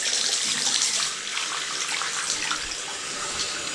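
Water pours steadily from a tap into a sink that was blocked, a close, continuous splashing rush into the drain with no one speaking.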